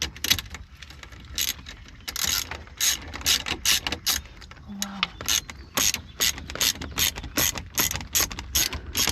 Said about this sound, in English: But as soon as we start tightening this up